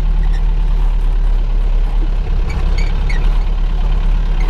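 A TAM truck's engine idles while warming up, a loud, steady low rumble held close and unbroken for the whole stretch with no talk.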